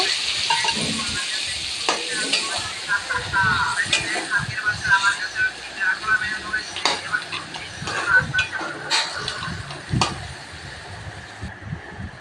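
Mung dal tipped into hot oil with dried chili, bay leaf, onion and garlic in a pan, sizzling and crackling continuously, with frequent stirring scrapes and clatters of a spoon against the pot throughout.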